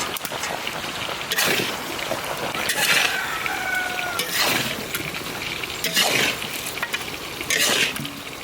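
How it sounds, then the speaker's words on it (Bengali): Soya chunks stirred and sautéed in a pan for a village-style meal: a close, continuous sizzle with repeated loud scraping sweeps of a spoon, recurring every second or two. "সয়াবিন দিয়ে কষাতে শুরু করে দাদা"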